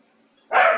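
A single loud, close dog bark breaks out suddenly after a near-silent moment and rings out alone.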